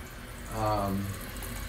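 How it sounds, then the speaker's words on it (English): Water rushes into a Kohler toilet tank as it refills, a brief, close swell of flowing water that rises and then settles into a steady, softer hiss. "once the water fills up, the tank's going to be a little heavy because of the water weight"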